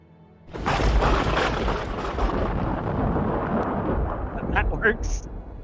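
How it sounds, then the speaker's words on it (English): A rumbling, crackling thunder sound effect for lightning in a tabletop D&D game, rising sharply and rolling on steadily for several seconds, with a few brighter cracks near the end. "That's the sound for lightning."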